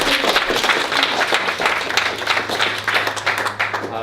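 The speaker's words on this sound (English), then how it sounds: "Clap it up for him real quick." An audience claps for several seconds, the individual hand claps close and fairly loud, forming an uneven patter with a low hum underneath.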